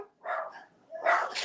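Dogs bark indoors, two or three sharp yips and barks in quick succession, close and moderately loud, with no talking over them.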